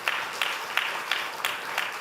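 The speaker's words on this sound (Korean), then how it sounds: "박수하겠습니다" A church congregation claps during a Sunday service to welcome a first-time visitor, with the claps falling in a regular, repeating beat at a moderate, even level and no voices.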